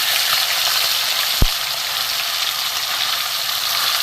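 Parshe fish fry in hot oil with a continuous close, even sizzle and one brief sharp tap partway through, and no one speaking.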